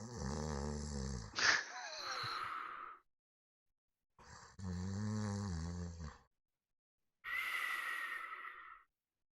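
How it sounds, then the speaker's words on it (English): Several creatures snore behind a door in a tabletop fantasy campaign: three long, separate snoring breaths with pauses of silence between them, rough and fairly close, with no talk over them. "more than one sets of snoring."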